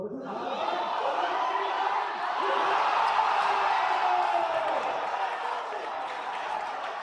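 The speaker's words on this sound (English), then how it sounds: "You gotta love the energy of the crowd here." A crowd at a Classic Tetris World Championship cheers and applauds continuously, a dense roar of cheers and claps with a voice talking over it.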